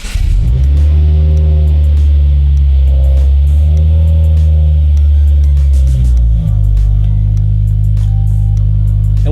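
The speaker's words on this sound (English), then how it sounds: "And then you get the car to start." A car engine fires up via remote start and settles into a loud, steady idle, with a brief rise in revs around the middle before dropping back to a smooth hum.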